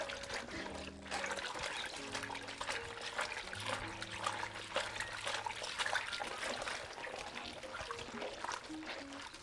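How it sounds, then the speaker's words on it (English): Hot water trickles and sloshes steadily inside a washing machine filling for a load of whites with soap, a continuous watery wash noise close by with no voices. "Soap in with the hottest water, and the whites go in, and then the whites get washed."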